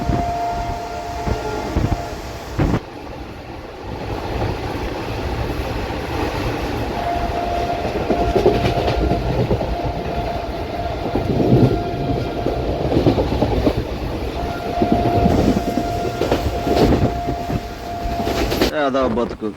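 Steady rolling rumble of an Intercity Superfast train running on rails between Bhubaneswar and Vizag along the coastal route, heard from aboard, with sustained whining tones and occasional jolts, loud and continuous, with faint voices underneath.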